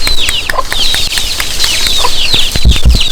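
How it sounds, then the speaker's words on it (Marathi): Farmyard hens with their chicks cluck and peep close by in a busy, overlapping chorus, with a couple of louder clucks near the end and no talking. "हे आमच्या कोंबड्या आणि तिची पिलं"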